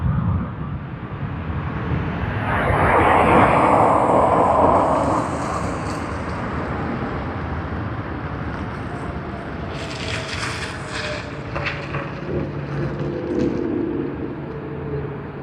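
A Korean Air Boeing 787-10 airliner at Sydney Airport gives a broad, steady jet roar that swells around the fourth second and then settles into a continuous outdoor rumble with some wind.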